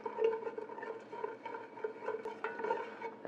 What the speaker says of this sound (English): And as the ghee is melting, we'll mix it all up here, just to get the ghee with all the spices.